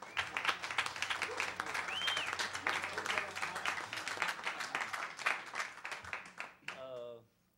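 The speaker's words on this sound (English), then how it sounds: "Please, a huge round of applause for Ramon Papatin on percussion." Applause for percussionist Ramon Papatin at a Latin music concert, a crowd clapping steadily and fairly loudly for several seconds, mixed with voices and cheers, before dying away.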